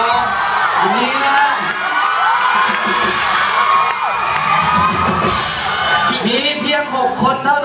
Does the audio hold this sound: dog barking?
no